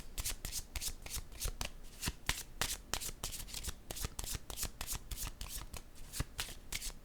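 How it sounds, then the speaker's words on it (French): Tarot-style cards are shuffled and drawn, a dense, continuous patter of soft card riffles and snaps. It is close but quiet, with no talking. "Je vais piger une autre carte."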